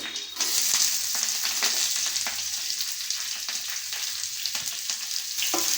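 Curry leaves and onions dropped into hot oil for a carrot fry, giving a bright continuous sizzle with scattered crackles and pops, close and fairly loud throughout.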